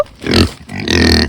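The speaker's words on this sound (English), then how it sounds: "the pigs are very loud" Hungry pigs on a farm oinking loudly, two close, harsh grunting squeals in quick succession.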